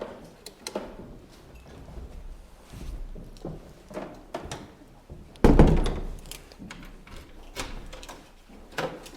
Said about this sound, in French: Ouais, ferme seulement la porte.